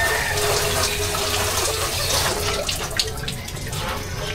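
Water runs steadily from a tap into a container, a continuous broadband rush with a few small splashes near the end.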